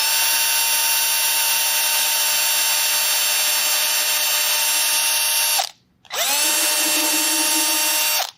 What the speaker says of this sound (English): I'll drill the hole. I'll start out slow to make sure it doesn't walk.